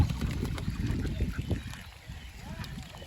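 Flock of Campbell egg-laying ducks on a duck farm in Rangpur, scattered quacks and calls mixed with farm noise while someone talks over them.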